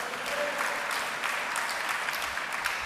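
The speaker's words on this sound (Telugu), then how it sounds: "చప్పట్లు కొట్టి దేవుని స్తుతిద్దాం." A church congregation claps in praise of God during a sermon, a steady, fairly faint round of many hands with no break.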